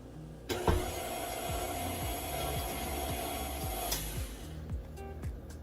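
An electric hand mixer whisks a dry flour mixture for pumpkin bread, its motor whirring loud and steady for several seconds before cutting off, with rhythmic beater clatter against the bowl underneath.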